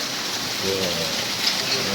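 Heavy rain pouring steadily over a village, a dense even hiss that fills the whole stretch without pause, with faint voices now and then underneath.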